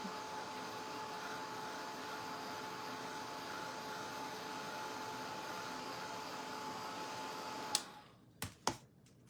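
Heat tool drying wet paint on a wooden pumpkin: a steady, close blowing whir holds for about eight seconds, then cuts off, followed by a few sharp clicks and knocks.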